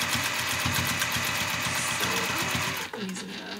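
A sewing machine runs steadily, stitching Petersham ribbon onto an 1871 stout corset at a small stitch length, with a fast even rhythm close up, then stops abruptly near the end.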